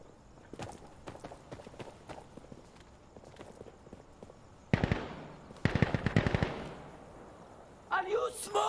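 Incoming gunfire in Insurgency Sandstorm, scattered distant shots and bursts crackling early on, then heavy, loud impacts and rapid close volleys landing nearby in the second half, ending in a burst of hissing debris.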